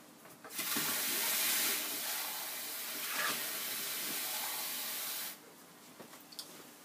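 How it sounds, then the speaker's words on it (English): Cold water pours from a tap into a container for mixing with acrylic pouring medium, a steady close rush lasting about five seconds before it shuts off, followed by faint drips. "Then I come in with the water."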